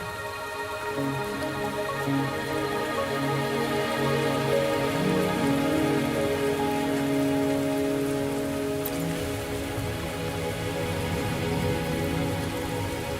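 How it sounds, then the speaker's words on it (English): Steady rain falls on a surface in a video game, a soft continuous patter with a faint hum beneath, even and unbroken throughout, with no talking. "Are you trapped here by the rain?"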